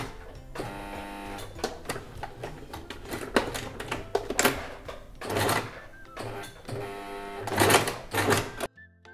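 A sewing machine stitches the side seam of a smocked bustier at 1 cm from the edge, its rapid needle clatter coming in uneven bursts with brief stops and a backstitch, close and fairly loud.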